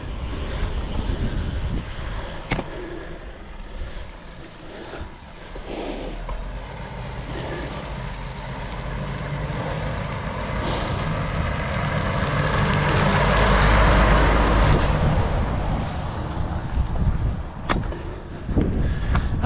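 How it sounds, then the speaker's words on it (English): A heavy lorry approaches and passes on a road, its engine rumble and tyre roar swelling to a loud peak before fading, with wind buffeting throughout. "Hang on, I've got to pull over, this lorry coming."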